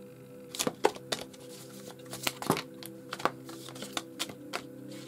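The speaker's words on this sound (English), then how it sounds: "So as per usual, I'm just going to start shuffling the deck." Tarot card deck being shuffled by hand, a series of sharp, irregular riffling snaps and flicks close up over a low steady hum, alone with no talk.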